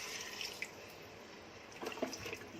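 Water poured into a mixer grinder jar holding leftover masala in a home kitchen, a faint soft trickle and splash with a few small clinks near the end.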